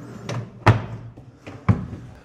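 Two Platinium 4D Slim drawers fitted into one cabinet glide shut, each ending in a soft thud close by, the second about a second after the first.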